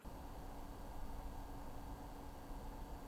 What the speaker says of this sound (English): At most, I really just hear the air being moved by the fan